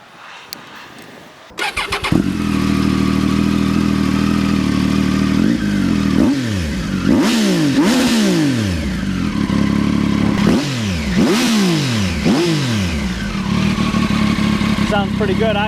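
A Triumph Tiger 800 fitted with a Yoshimura RS4 slip-on exhaust cranks and fires up, settles into a steady rumbling idle, then gets several sharp throttle blips that rise and fall, loud and close.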